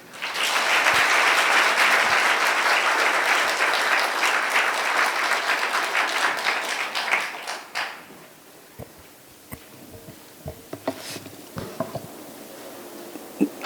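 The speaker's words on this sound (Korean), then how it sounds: "큰 박수로 모시겠습니다" Audience clapping to welcome a lecturer at a symposium, strong and steady for about seven seconds, then fading into a quiet room with scattered taps and small rustles.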